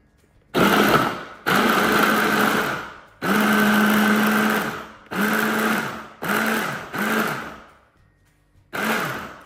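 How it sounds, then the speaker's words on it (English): An onion whizzes in a kitchen blender in short pulsed bursts, about six high-pitched whirring runs of varying length separated by brief pauses. "just throw in our onion in there and then quickly blend that"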